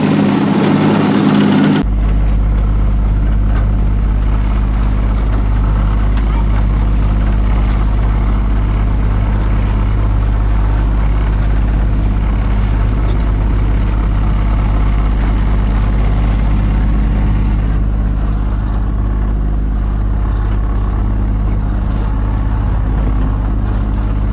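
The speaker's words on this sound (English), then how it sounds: "we've got our engine on as well, as you can hear" A sailboat's engine runs steadily while motor sailing in stormy conditions, a loud continuous low drone that keeps going unchanged, with wind and water noise layered over it.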